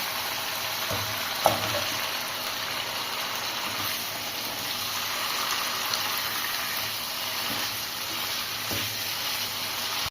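Chicken pieces frying in a hot pan after cumin-coriander powder and sugar, with a soft continuous sizzle, a few light stirring clinks, and faint bubbling throughout.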